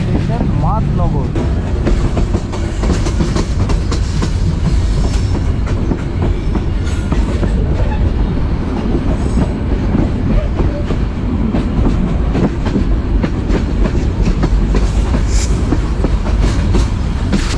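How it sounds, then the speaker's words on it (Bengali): Kurigram Express passenger train leaving Santahar Junction on the Kurigram to Dhaka route, heard from on board as a steady, loud rumble of wheels on rails with rhythmic clatter that continues without break. "সান্তাহারে 4 থেকে 5 মিনিটের একটি বিরতি শেষে আমাদের ট্রেন ছেড়ে দিল"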